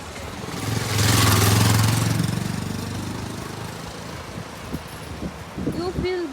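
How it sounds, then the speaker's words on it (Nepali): A motorbike approaches and passes outdoors, its engine swelling loudly for a second or two, then fading into the distance. Voices and other small sounds follow near the end. "अरू के भनेर बाइक आयो यो चाहिँ बाइकको दाइ हो"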